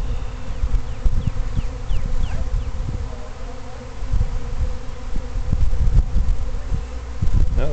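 Honey bee swarm buzzing around a hive during a rehiving attempt, a dense, continuous hum of many bees with individual insects droning past close by.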